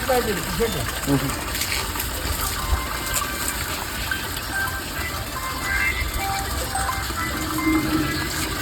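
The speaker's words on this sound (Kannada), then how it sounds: "ನೋಡ ನೀರು ಎಷ್ಟು ವೇಸ್ಟ್ ಆಗ್ತೈತ" Water gushes steadily from a leaking supply pipe on a poorly built drinking-water line, a continuous rushing wash that fills the whole clip.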